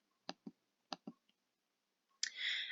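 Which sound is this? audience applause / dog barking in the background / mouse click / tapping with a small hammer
mouse click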